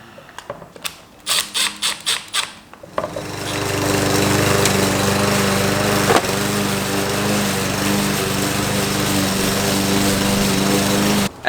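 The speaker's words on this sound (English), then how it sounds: "At this point, the lawnmower's running" A few sharp mechanical clicks and pulls, then a lawn mower engine, previously failing to run, starts and runs steadily and loudly, close by.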